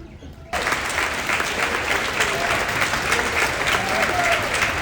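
After a brief moment of quiet, an audience bursts into sustained, loud applause that keeps going steadily.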